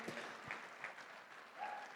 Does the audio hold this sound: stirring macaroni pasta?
no